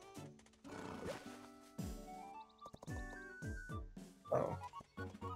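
A horse in the Nintendo Switch game Miitopia neighs in a moderately loud, close, stylised game sound: a series of whinnying and snorting bursts over about five seconds, mixed with other game effects and no talk.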